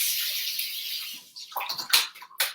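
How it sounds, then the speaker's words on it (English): Running water pours into a kitchen container as tomatoes are rinsed in it, a steady hiss that breaks into splashing and sloshing bursts near the end, close by with no talking. "And then I'm going to rinse the tomatoes."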